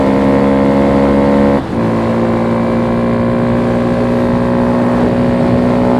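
A small Honda Grom motorcycle engine idles loudly close by, its pitch dipping briefly and then holding a steady, buzzing revving note.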